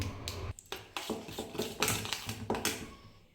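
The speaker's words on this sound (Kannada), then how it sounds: "ಸ್ವಲ್ಪ ಚಿಲ್ಲಿ ಪೌಡರ್ ಹಾಕ್ತಾಯಿದ್ದೀನಿ ಚೆನ್ನಾಗಿ ಮಿಕ್ಸ್ ಮಾಡ್ಕೊತೀನಿ" A utensil scrapes and clinks against a bowl while chilli powder is mixed into a mushroom kebab mixture, quick irregular stirring strokes, close and moderately loud, no voices.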